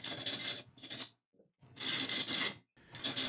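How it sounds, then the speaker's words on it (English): A bowl gouge rough-shapes a wooden burl spinning on a lathe, giving loud, rasping scrapes in several long bursts with short quiet gaps between cuts. "Now begins one of the most fun parts of wood turning, rough shaping the outside and then the inside of the bowl."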